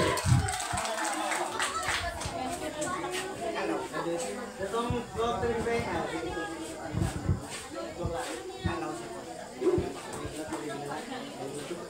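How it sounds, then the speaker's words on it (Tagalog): Hands clap in applause at a family clan talent presentation. The clapping is moderate and continues throughout, mixed with crowd chatter and people talking. "Palakpak mga kamay."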